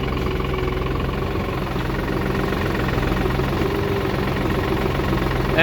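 A New Holland TD4 65 tractor engine idles close by with a steady low rumble and rhythmic knocking, constant and loud throughout with no speech.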